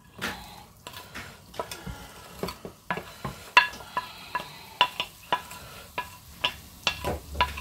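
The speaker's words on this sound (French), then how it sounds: "Donc, nous mettons nos piments et nos oignons." Chili peppers and onions cooking in a pot for a corned beef stew, with a steady run of stirring scrapes and clinks over a soft sizzle, close by and moderately loud.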